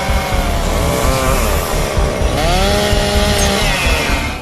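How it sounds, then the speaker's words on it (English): A chainsaw roars loudly up close, its engine pitch rising and dropping as it bites into tree branches, then revving high again. "then brought chainsaws to cut off the branches"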